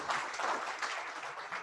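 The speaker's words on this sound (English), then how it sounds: "Let's have a better clap for the leadership" Brief burst of steady audience clapping at an annual general meeting, honoring the outgoing leadership, a dense crowd applauding throughout.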